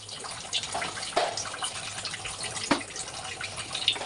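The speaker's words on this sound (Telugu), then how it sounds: "మసులుతున్న ఎసర్లో రైస్ వేసుకోవాలండి" Soaked rice tipped into a pot of boiling water for chicken fry piece biryani, giving a soft pouring splash with a few brief wet spikes over steady bubbling, close and moderately loud.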